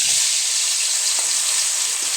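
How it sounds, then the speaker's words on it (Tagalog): Loud, steady sizzling of potatoes frying in hot oil, a continuous bright hiss with no voices. "At ipa-fry naman natin yung patatas."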